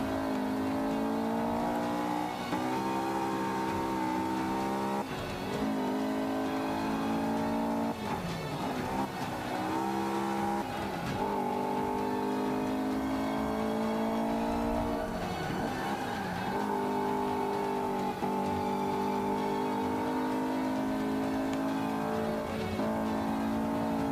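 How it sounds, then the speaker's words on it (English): A race car engine in the Forza 5 video game, revving hard through repeated gear changes, the steady loud whine rising and dropping in pitch over continuous game sound with no talking. "Listen to the car, it sounds so awesome."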